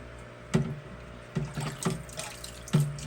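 Water from a valve runs into a fish tank in a steady low wash, broken by several distinct splashy drips or gurgles at irregular intervals, fairly quiet and with no talking.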